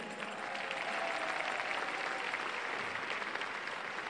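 Quiet, distant applause from an audience welcoming a pastor to the stage, an even continuous patter of clapping sustained throughout.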